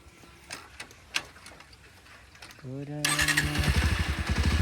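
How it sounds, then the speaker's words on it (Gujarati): A motorcycle engine cranks and fires up, then settles into a loud, rapid idle, following a few faint clicks and quiet background noise. "બાઇક સ્ટાર્ટ કરી દીધી"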